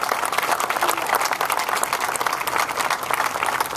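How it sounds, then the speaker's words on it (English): Applause from a fair crowd honoring the organizer, dense steady clapping from many hands that holds at an even level throughout with no pauses. "Give him a great round of applause, please."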